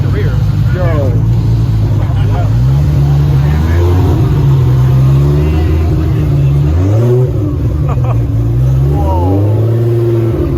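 A 2JZ-swapped Lamborghini Gallardo with no bumper revs repeatedly, its engine note rising and falling in loud close blips over a constant rumble, with voices talking throughout.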